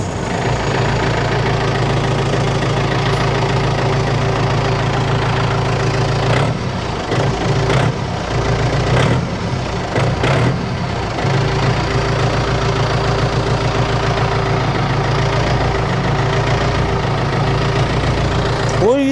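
Tractor engine running at idle on a property where five acres are mowed, a loud continuous low rumble with rough knocking vibration close to the microphone throughout.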